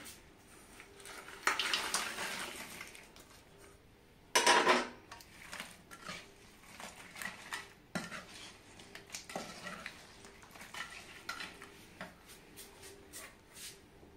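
Korramenu fish pieces for pickle go into cooled oil in a pot, with repeated clinks, scrapes and clattering of utensils and a few louder bursts of mixing, close and moderately quiet.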